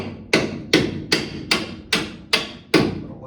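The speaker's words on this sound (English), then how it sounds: "Hammer and knock it through." A hammer strikes a bolt to knock it through during a lift install on a 1985 Chevrolet Silverado, seven sharp metallic blows in a steady rhythm about every 0.4 seconds, close and clear with nothing else heard.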